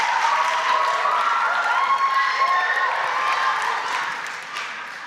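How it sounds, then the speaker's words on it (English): A crowd at a junior high school quiz contest applauds and cheers the winning team, a sustained wash of clapping mixed with excited children's shouts and whoops, holding steady before fading slightly at the end. "let's give them a very big round of applause"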